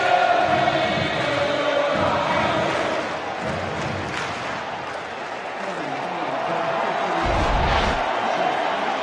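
Sold-out baseball stadium crowd during a 2017 playoff game between Cleveland and New York, a sustained wash of cheering and roaring, fairly loud and steady, with voices speaking over it.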